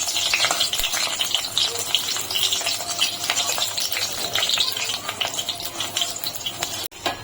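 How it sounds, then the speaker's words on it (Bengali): Washed lentil dumplings (bori) fry in oil for a bottle-gourd shukto, a loud continuous sizzle and crackle with stirring scrapes throughout and a sharp clack just before the end. "বড়িগুলো ভেজে নেবো"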